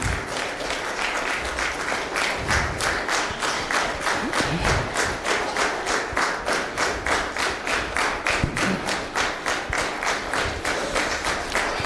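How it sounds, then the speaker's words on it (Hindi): Steady, rhythmic clapping from an audience at a Hindi New Year 2025 gathering, with sharp regular hand claps repeating close and loud for the whole stretch, a few thuds underneath. "तालियों में कंजूसी ना करें"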